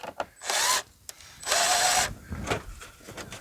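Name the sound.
power drill driving screws into a wheel well table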